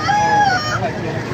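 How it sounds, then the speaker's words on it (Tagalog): A short, close chicken call with drawn-out, wavering tones over light background noise. "Ganda ng mga manok dito."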